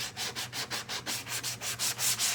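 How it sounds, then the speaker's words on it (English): Sandpaper scrubs off a painted transfer print in steady back-and-forth strokes, about a dozen close, even rasps in a regular rhythm. "So see, I'm sanding it off."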